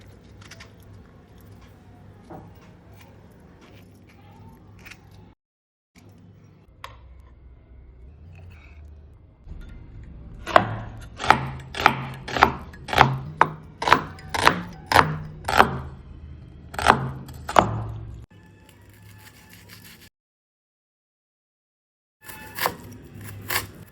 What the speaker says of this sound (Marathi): इथे मी एक टोमॅटो घेतलेला आहे दोन मिडियम साईजचे कांदे घेतलेले आहेत ते छान असे चिरून घ्यायचे